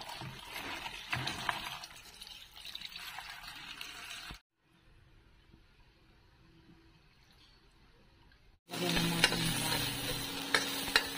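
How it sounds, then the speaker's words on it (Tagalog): Malabar spinach stir-fries in a hot pan, a loud crackling sizzle with spatula scraping, then a quieter watery stretch before the sizzling and stirring surge back, close by and without talk. "Gisahin na natin, Ate Linda."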